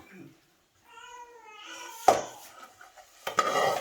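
A small pet cat meows in a kitchen where vermicelli is being fried, giving a short, clear, rising cry, followed by the clatter of dishes and utensils.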